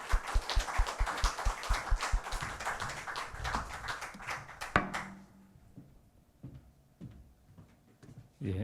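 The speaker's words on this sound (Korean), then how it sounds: "단장님 박수로 앞으로 모시겠습니다." Audience clapping at a forum in a hall as a special autonomy task force director is called up to the stage, dense and lively for about five seconds, then thinning into scattered claps and footsteps as the room quiets.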